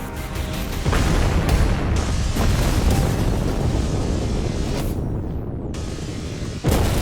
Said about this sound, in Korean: 매일 오가던 지하 주차장에서 폭발 사고가 일어났다. 엄청난 굉음과 함께 주변을 순식간에 아수라장으로 만들어버린 건